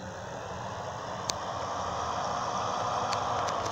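A tractor engine idling in the farming video game Farming USA 2, a steady low mechanical hum that rises slightly after a brief click, close and continuous, with no talking.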